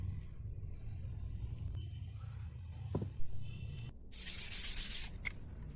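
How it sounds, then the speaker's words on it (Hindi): Sandpaper strip rubbed over a wooden surface before polishing, producing soft scratchy strokes over a low rumble, close and fairly quiet, with a brief harsher, brighter hiss near the end. "उसके बाद में इसके ऊपर पट्टे वाला रेगमाल लगा लें।"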